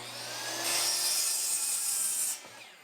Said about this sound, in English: First things first, I'm going to cut 2 pieces that are